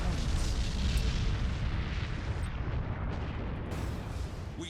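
Dense, continuous rumbling explosions from dumbfire torpedoes striking ships in the space battle video game Battlefleet Gothic Armada 2, a loud sustained boom that fades slightly over a few seconds.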